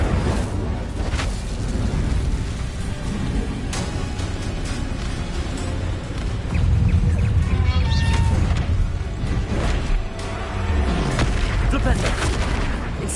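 Incendio fire spell cast in the Hogwarts Legacy video game, heavy booming blasts and crackling bursts over a loud, continuous rumble of combat effects.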